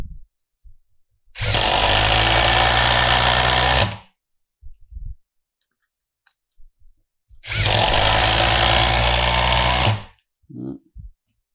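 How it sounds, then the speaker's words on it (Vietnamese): A Dewalt impact driver sets wood screws in two loud, close bursts of about two and a half seconds each, separated by quiet, with light handling knocks in between. "Giờ em thử bắn đinh gỗ nhá. Đây rất là khỏe luôn mọi người ạ."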